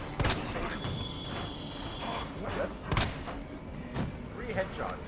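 A few sharp gunshots ring out in the Resident Evil 2 one-shot demo, spaced irregularly over a busy game soundscape with muffled voices underneath.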